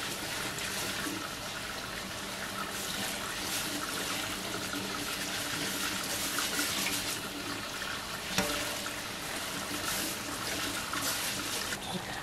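Tap water runs steadily into a sink while quinoa is rinsed for a salad, a loud continuous rushing splash with faint speech in the background.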